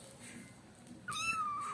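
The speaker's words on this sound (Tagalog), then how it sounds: "Yan po pala yung bagong naming alagang kuting." A kitten of a Calico cat gives one rising, drawn-out meow near the end, loud and close, after a stretch of quiet household background.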